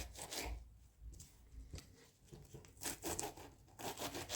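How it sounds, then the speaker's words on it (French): A knife cuts pieces of salad greens on a board for a farmhouse salad, giving quiet, irregular crunching and rubbing strokes close by. "je vais découper déjà mes morceaux de salade"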